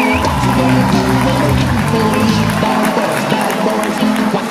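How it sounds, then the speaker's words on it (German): Dense crowd applause and cheering at a handball club reception welcoming the HSG Wetzlar goalkeeper and European champions, a steady roar of clapping with a voice over a PA mixed in throughout. "Nochmal einen fetten Applaus"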